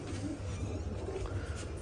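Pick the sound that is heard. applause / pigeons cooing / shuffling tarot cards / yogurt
pigeons cooing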